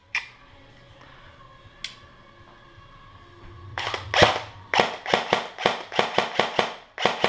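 A pin is pressed into an ICS PAR MK3 airsoft rifle during a spring change, heard as a string of sharp, close clicks and snaps, loud and evenly spaced in the second half after a quieter start.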